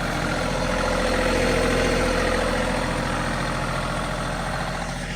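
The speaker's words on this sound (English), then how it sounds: "A 3520 tractor. Gorgeous little tractor." A John Deere 3520 compact tractor fitted with a loader idles nearby, a steady, loud diesel drone with an even low rumble that holds unchanged for the full stretch.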